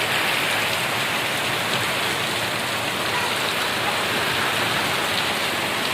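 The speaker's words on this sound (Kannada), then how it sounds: "ಭಾಳ ಅಂದ್ರೆ ಭಾಳ ಬೀಳತ್ತವ್ರಿ ಮಳೆ" Heavy rain pours down over a village field in a dense, unbroken roar that stays loud and even throughout.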